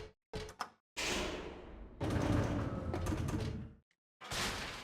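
An elevator in the Silent Hill 3 video game with a creaking, grinding mechanism: short clanks, then a long sliding door rumble, a pause and a further grinding run, loud and close.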